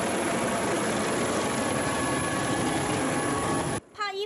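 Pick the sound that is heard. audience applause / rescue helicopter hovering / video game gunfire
rescue helicopter hovering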